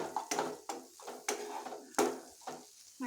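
Homemade pasta sauce ingredients stirred and mixed in a pan, a spoon scraping and clacking against the metal in a steady rhythm of about eight strokes with a soft sizzle underneath, close by and with no talking.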